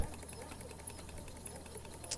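A small model steeple engine machined from bar stock runs at an expo, a rapid, even mechanical clatter of regular beats that sounds faint and steady against room noise.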